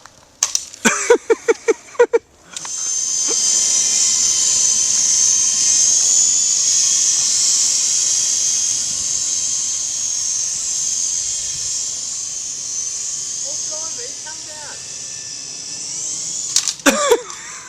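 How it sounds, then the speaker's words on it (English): A model helicopter, an S031G, flies with a loud steady high-pitched whine and hiss that holds for about fourteen seconds, bracketed by clattering handling noises at the start and end. "we're going to give the helicopter another whirl"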